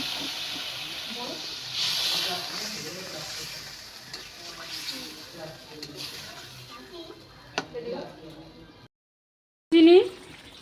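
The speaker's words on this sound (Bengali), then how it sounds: "এবার দিয়ে দিচ্ছি পরিমাণ মতো জল।" Water poured into a pan of sautéed, spiced vegetables sends up a soft, hissing sizzle that swells and fades, with someone talking quietly over it, then a brief silence and a short burst at the end.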